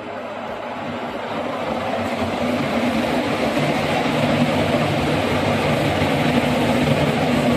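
The Tamralipta Express 12858 from Digha to Howrah rumbles at a station platform, a loud, steady low engine drone with broadband rolling noise that builds slightly and holds throughout, with no speech.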